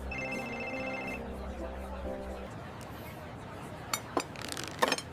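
A phone rings with a sustained electronic chime for about two and a half seconds before stopping, followed by a few light clinks like glasses in a quiet room.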